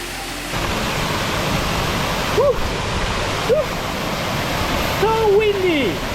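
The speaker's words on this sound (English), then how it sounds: "We were happy to have this waterfall to ourselves so early in the morning" Steady broadband roar of a waterfall in the Amalfi valley, loud and continuous throughout, with a few brief whistling or voiced tones rising above it partway through.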